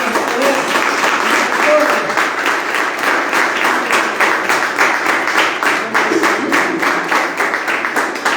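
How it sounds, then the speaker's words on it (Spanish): A church congregation applauds loudly during a worship service, the clapping falling into a strong, fairly regular rhythmic beat that carries on steadily for several seconds, with scattered voices mixed in beneath it. "Un fuerte aplauso al Señor."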